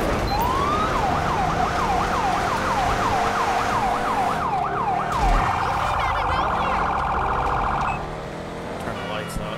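Police car siren in GTA V with LSPDFR, a rising-falling wail cycling rapidly several times before switching to a fast yelp pattern, loud over engine rumble, then cutting off.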